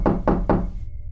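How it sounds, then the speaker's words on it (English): Three firm knocks on a bedroom door, evenly spaced and close, followed by a quiet hum and no talking. "the knocking was not at my front door, but rather at my bedroom door"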